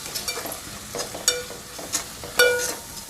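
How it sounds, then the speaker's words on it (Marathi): Spice masala with ginger-garlic paste sautéed in oil for a Malvani egg curry, a soft sizzle broken by several sharp spoon scrapes and clinks against the pan, close and without voices. "व्यवस्थित असं परतवून घेते मसाला व्यवस्थित यामध्ये भाजला गेला पाहिजे"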